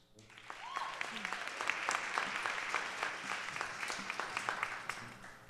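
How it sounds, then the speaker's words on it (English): Warm audience applause for a contestant at an Irish-themed televised talent show; fairly quiet, dense clapping swelling after a moment and holding steady, with a few crowd voices and a brief whoop underneath. "Our first contestant from Traverse City, a warm round of applause for Pam Luce."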